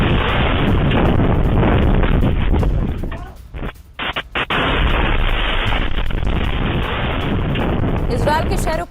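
A rocket strike shakes a building in Kiryat Shmona, heard as a loud, heavy rumbling blast with crackling bursts and booms. It drops out briefly midway, then the roar returns, and a voice speaks over it.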